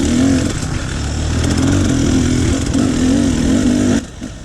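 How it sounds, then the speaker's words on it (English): An air-cooled four-stroke dirt bike engine on an enduro trail during an extreme race drones steadily and loudly, its pitch wavering as the throttle rises and falls, then drops away abruptly near the end. "I hear behind me what sounds to be an air-cooled four-stroke"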